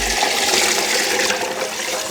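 Water pours steadily into a pot already holding onion, celery, carrots, spices and brisket for corned beef, a close, continuous rushing splash.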